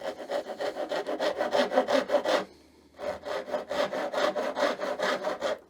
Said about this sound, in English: you can remove the waste with a coping saw first and then chisel it out